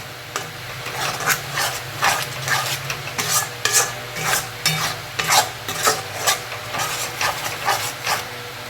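A spatula scrapes and stirs tomato paste into a cooked-down spice masala for prawn bhuna in a pan. Rhythmic strokes repeat about every half second over a soft, constant sizzle.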